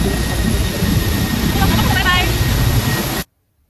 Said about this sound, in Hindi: ये हेलीकॉप्टर जो है वो जाने लगी अपनी डेस्टिनेशन में।